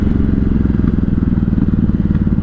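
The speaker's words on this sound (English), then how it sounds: "let's do a rev in the tunnel just for fun" A 1983 Honda Shadow VT750C motorcycle idles in neutral inside a tunnel, its engine running as a loud, steady, throbbing pulse up close with a rough, echoing low rumble and no voices.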